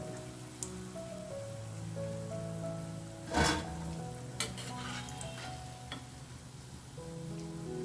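Bonda pieces deep-frying in hot oil in a pan, giving a steady close sizzle throughout with a brief louder crackling burst partway through, no talking.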